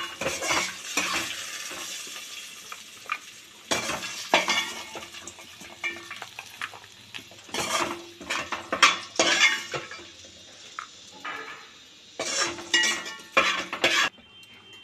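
Fried ivy gourds being scooped from a pan onto plates with metal utensils, giving repeated scraping, clinking and clattering bursts in an irregular rhythm, close and moderately loud, with a faint sizzle underneath.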